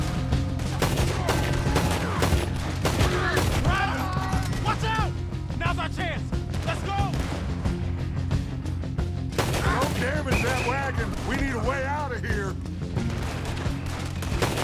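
Pistol shots in Red Dead Redemption 2 during a tram escape, sharp repeated bursts mixed with other gunfire and crashes, heard under frequent overlapping talk.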